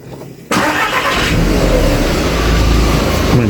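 An Audi TT Mk1 1.8T quattro with a repaired exhaust starts and runs, its engine catching abruptly and settling into a loud, close, steady rumble with slight revving.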